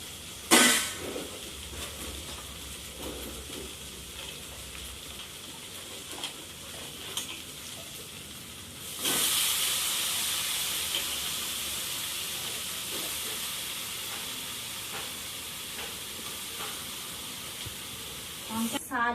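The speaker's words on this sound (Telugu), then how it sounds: "ఇప్పుడైతే వంకాయలు వేస్తున్నాం." Cut eggplant pieces drop into hot tempering oil and set off a loud, steady sizzle that slowly fades over many seconds, with brief scraping and clatter at the start and end.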